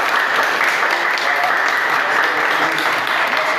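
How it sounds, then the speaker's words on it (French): A crowd applauds steadily and fairly loudly, a dense, continuous wash of many hands clapping that holds without a break. "taper les mains pour l'applaudir"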